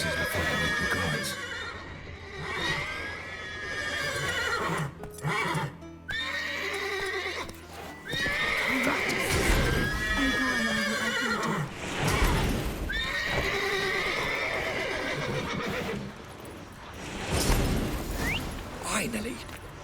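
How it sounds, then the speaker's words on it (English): Horses in The Witcher 3 video game neigh and whinny repeatedly, loud and close, with hooves clip-clopping underneath and someone speaking at times between the calls. "I've got to call all the horses before they wake the guards."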